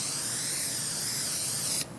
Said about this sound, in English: I am just going to spray a little extra on the foam